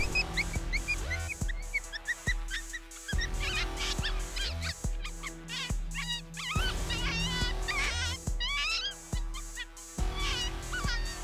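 High, wavering yelps and squealing cries of a coyote pup distress call repeat in bursts over a thumping rhythmic background, played while hunting coyotes in South Dakota.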